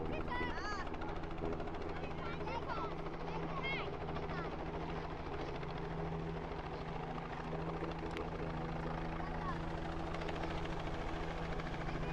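A helicopter's rotor thumps continuously nearby, a loud steady drone that runs throughout.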